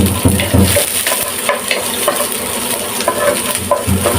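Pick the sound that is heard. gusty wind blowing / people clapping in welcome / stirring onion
stirring onion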